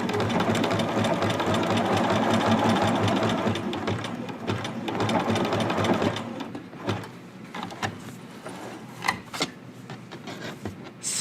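Sewing machine stitching a jogger waistband, running steadily and loud for about six seconds, then continuing more unevenly with brief pauses and quieter bursts of stitching.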